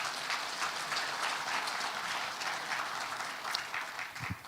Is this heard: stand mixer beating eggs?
no